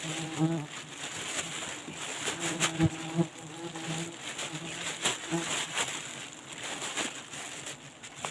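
Giant honey bees buzzing in a forest, a steady insect hum with scattered closer passes and occasional soft taps and thuds, moderately faint outdoors.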